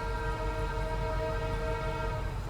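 Rail noise on a journey near Rayadurga as another train, the Kalyanadurga service, crosses alongside: a loud, steady rumble with sustained horn-like tones running throughout, no talk.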